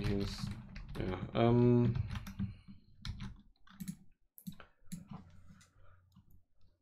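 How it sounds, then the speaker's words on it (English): Someone types on a computer keyboard, with scattered close clicks and taps under and between a man's speech. "I'm typing in here"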